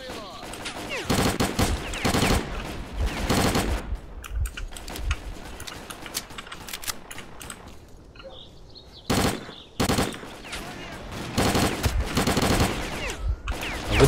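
Rapid bursts of automatic gunfire in the game S.T.A.L.K.E.R.: Clear Sky, in repeated volleys with brief lulls, loud and continuous over most of the stretch.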